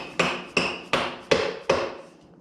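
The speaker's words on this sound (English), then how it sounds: "Tap the axle through, like so." A rubber mallet strikes the rear axle of a Kawasaki ZX6R motorcycle five times in a steady rhythm, each sharp knock close and clear with short decay and no voices.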